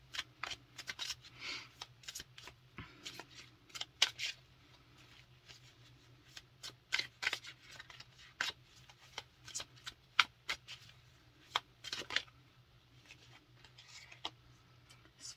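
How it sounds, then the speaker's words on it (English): A deck of tarot cards being shuffled, quiet riffling and flicking bursts repeating irregularly over a low steady hum, close and soft with no speech. "whenever I was shuffling the deck"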